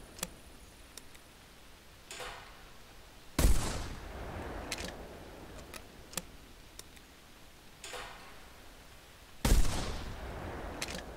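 A 12 gauge shotgun firing birdshot in the hunting video game theHunter Classic. Two loud, sharp blasts several seconds apart each trail off into a decaying rumble, with faint clicks and ticks between them.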